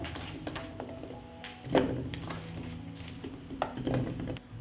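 Chopped potatoes dropped into a metal pot at close range, a few soft knocks and clinks from the pieces against the pot's sides over a quiet kitchen background.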